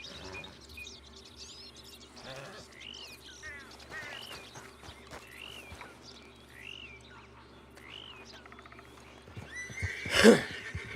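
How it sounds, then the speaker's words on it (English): Horse neighing in a video game, a series of loud whinnies rising and falling over a steady background hum with faint bird chirps, ending in one sharp, louder burst near the end. "Stupid horse."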